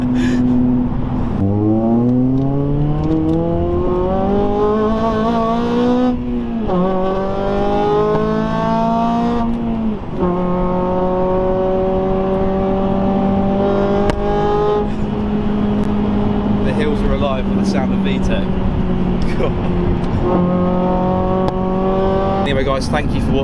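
Honda Civic FN2 Type R engine revving hard and bouncing off a hard 8,500 rpm rev limiter, loud and close, with repeated rising pulls that hold at the cutoff across the whole stretch.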